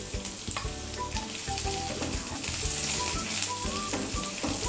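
Chopped garlic frying in two to three tablespoons of hot oil in a pan gives a dense, continuous sizzle and crackle, steady throughout under melodic background music.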